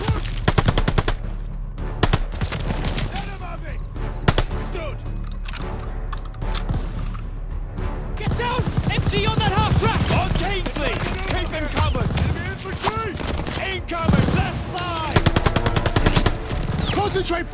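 A D-Day video game battle during the Operation Tonga Normandy invasion, with sharp gunshots and rapid machine-gun bursts rattling across the whole stretch, some close and some farther off, while soldiers' shouts rise over the firing.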